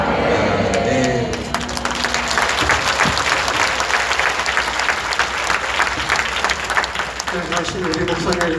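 Steady, full applause from a church conference congregation, with dense clapping filling the hall for several seconds and a few voices mixed in.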